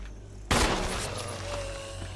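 Gunfire in the video game Resident Evil: a sudden loud burst of shots erupts and keeps rumbling with a decaying, echoing tail over steady game ambience.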